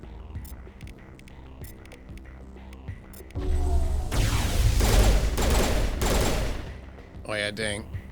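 Gunfire bursts from Mass Effect combat, starting with quieter rhythmic clicks and tones and then breaking into loud, sustained shooting with a final short burst near the end.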